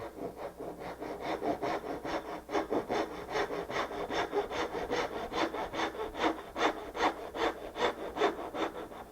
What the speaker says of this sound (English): And saw all the way down to my scribe line.